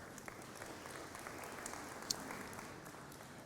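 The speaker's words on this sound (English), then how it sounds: "they deserve a special round of applause" Faint, distant applause from an audience at a leadership talk, an even patter of many hands with one sharper clap standing out.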